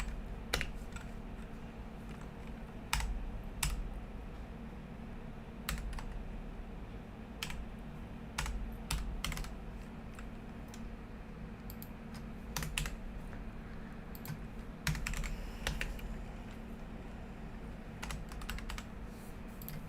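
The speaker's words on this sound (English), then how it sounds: "Hang on a second, I will type a signal for you on the chart." Typing on a computer keyboard during live gold trading, with quick irregular bursts of crisp key clicks and pauses between them, close and moderately quiet, no talking.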